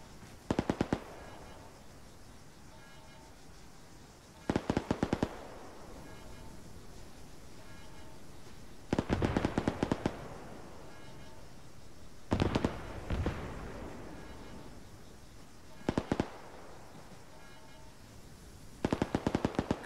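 Bursts of automatic gunfire in the military shooter ArmA 3 during squad training, rapid volleys recurring every few seconds over a constant low rumble, loud and fairly close.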